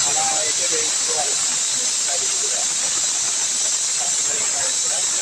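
Green chillies frying in oil for pudina chutney give a loud, steady sizzling hiss that holds without a break from start to finish.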